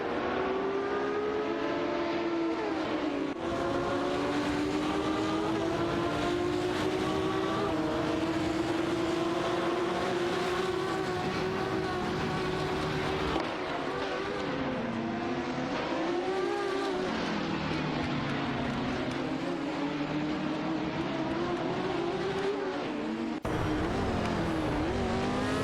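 Several race cars, including a Lola 70 Mk3 GT, a Ferrari 512S and a Porsche 917, battle closely on track in an AI racing game, with loud sustained engine drones rising and falling in pitch through gear changes as they pass, continuous throughout.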